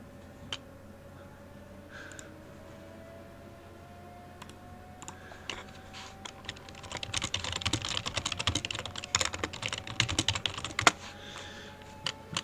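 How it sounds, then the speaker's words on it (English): Someone types on a computer keyboard during a racing broadcast, with sparse taps at first that build into dense, rapid clatter, close and fairly quiet. "Sorry for tapping on my keyboard, I just answered to a chat message I received."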